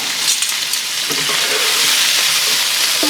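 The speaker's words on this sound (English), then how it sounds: "got a good sear on those shrimps" Shrimp sear in hot oil in a pan, giving a loud, steady sizzle with a dense hiss and a few small spatters and pops across the whole stretch, with no voices.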